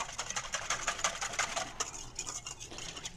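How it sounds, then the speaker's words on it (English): A whisk beating a cornstarch sauce mixture for a chicken stir fry, making a fast, steady scraping and clicking against the bowl that is close and moderately loud, slackening near the end, with no voices. "whisk this up and look out with that cornstarch because it'll harden up on you"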